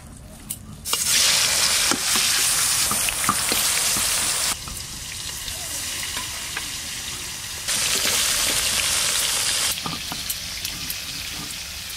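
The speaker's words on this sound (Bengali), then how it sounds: "ভালো করে লবণ হলুদ মাখিয়ে নিয়েছি, এবার মাছগুলো ভেজে নেব।" Pangas fish pieces rubbed with salt and turmeric fry in hot oil with a steady, loud sizzle that rises and falls over time, with occasional clatters from stirring.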